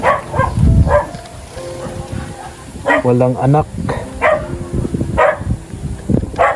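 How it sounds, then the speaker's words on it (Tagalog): A chained dog barks a few sharp times near a riverside spot where an elderly couple gathers sand, mixed in with people talking. "Uy, may aso."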